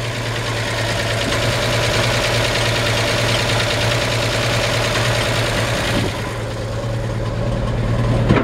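A 1951 Chevrolet 3100 pickup with a 216 inline-six idles steadily up close, with a low even hum, a slight knock and a rattling license plate, alone without talk.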